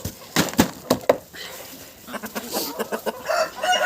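Chickens cluck in short bursts close by, with a rooster calling among them and some faint background noise.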